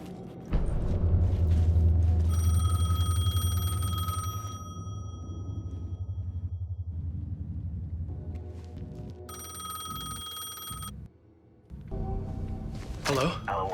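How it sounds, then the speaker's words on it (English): A payphone ringing in the video game Alan Wake 2: steady, bright electronic rings in two bursts over a low, droning ambient game score, with a brief louder sound at the end. "The payphone was ringing."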